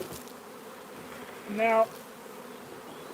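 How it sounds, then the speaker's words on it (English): Honeybees buzz during a nucleus colony transfer between hive boxes, a brief, close burst of wingbeat drone rising over quiet background, with a single spoken word. "And obviously some bees are going to drift here."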